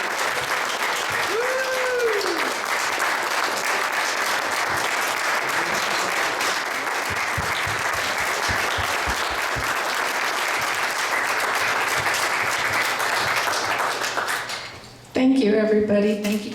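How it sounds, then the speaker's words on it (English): Audience at a Texas congressional district Republican candidate debate breaks into loud sustained applause, a dense wash of clapping that runs steadily for about fifteen seconds before cutting off abruptly, with a brief voice near the end. "every one of them deserve a loud clap and"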